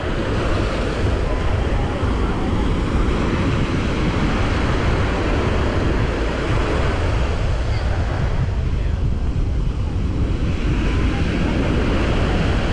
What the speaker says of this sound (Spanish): este oleaje que tenemos por esta zona no es malo